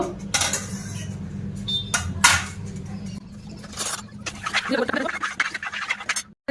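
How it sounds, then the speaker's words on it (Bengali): A spoon stirring sugar into milk in a bowl, with sharp clinks and scraping of metal against the vessel, close and irregular, followed by softer scraping. "আমি দু চামচ চিনি দিয়ে দেবো এই দুধের মধ্যে দিয়ে একটু ভালো করে ফুলিয়ে নেব"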